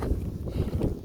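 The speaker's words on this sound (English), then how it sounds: "Super windy." Strong gusty wind buffets the microphone on a high mountain trail during light snow and hail, a low rumbling roar that swells and eases in waves with no voices.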